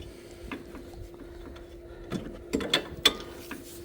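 Breaker bar loosening the lower brake caliper bolts on a FIAT during a front brake job, giving soft mechanical ratcheting and a few sharp metallic clicks and cracks near the end, close and fairly quiet.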